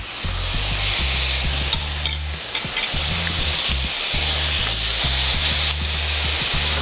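Lime-marinated seafood sizzles loudly in a frying pan that is shaken repeatedly, giving a close, continuous hiss with rhythmic scraping and thumping as the pan slides back and forth.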